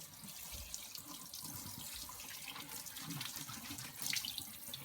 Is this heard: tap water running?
yes